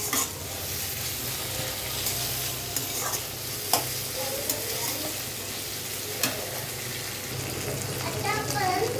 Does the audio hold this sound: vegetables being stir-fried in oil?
yes